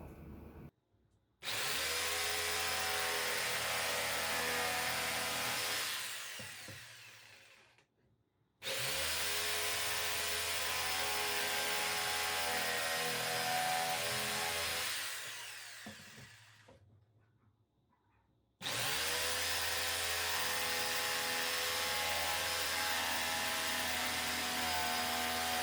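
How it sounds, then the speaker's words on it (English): A jigsaw cuts wood for a zero clearance insert plate on a Delta table saw, buzzing loudly and steadily in three long bursts with brief pauses between them. "So I'll come through with the jigsaw and just stay outside of the line pretty clearly."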